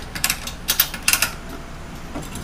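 A BoatBuckle ratchet tie-down is cranked down on a Pelican Bass Raider kayak, making a few quick clusters of sharp mechanical clicks close by, then a quieter pause.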